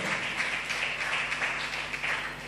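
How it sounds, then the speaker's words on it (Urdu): Loud, sustained applause from a congregation fills a church service, a steady dense clapping wash with no breaks. "زوردار تالیاں خدا کے جلال کے لیے"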